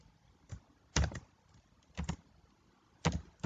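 Several short, separate bursts of computer keyboard typing while writing C++ code, crisp clustered clicks close by with quiet pauses between them, no voices.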